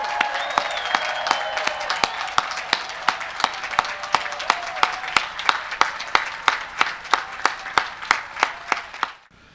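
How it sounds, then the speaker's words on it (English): Graduates at Longwood University's 2021 graduate commencement ceremony give a long, boisterous round of applause with sharp, evenly spaced unison claps over a crowd wash. It lasts nearly ten seconds before cutting off abruptly. "we can give you a very boisterous round of applause all together"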